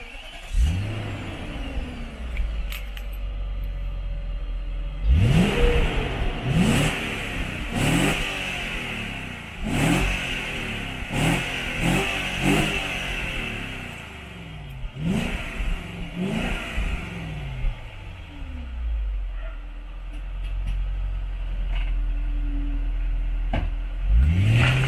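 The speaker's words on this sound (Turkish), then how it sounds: "Şöyle bir göster bakalım V8'i bize bir. Aynen, sesini, bakalım. Hızlanmasını." A BMW E38 740iL V8 is driven hard from inside the car, the engine rising through several rapid upshifts in repeated surging revs, loud and close, with brief lulls between pulls.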